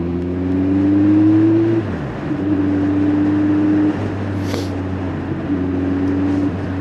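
A Kawasaki Z1000 SX 1-litre sports tourer motorcycle pulls steadily. Its engine note climbs, drops briefly at a gear change, then climbs again, loud and close with no talking.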